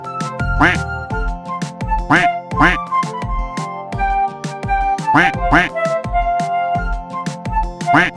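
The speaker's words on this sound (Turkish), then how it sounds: "Anne ördek vak vak demiş" A cartoon duck quacks in a Turkish children's song, with repeated quacks set among a bright, sung tune and instrumental backing.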